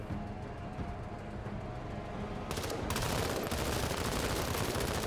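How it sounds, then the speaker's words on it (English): Sustained automatic gunfire opens up midway in the turn-based sci-fi tactics video game Menace, a dense rapid rattle of shots that rises out of a low rumbling background and keeps going to the end. "And open fire."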